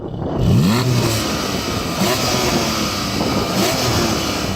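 A Toyota GR Supra engine blips and revs hard several times, loud and close, with a rising intake roar between quick throttle stabs.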